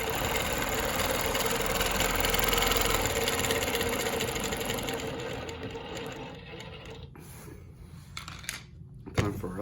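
Longarm quilting machine stitching along rulers to sew a Baptist fan pattern, its steady mechanical hum running evenly for most of the clip before dropping away into quieter, brief clicks near the end.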